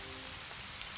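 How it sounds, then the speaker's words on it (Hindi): The season's first rain pours down, a steady, dense hiss of drops striking surfaces all around, continuous and fairly close, with no voices. "ये पहली बारिश है"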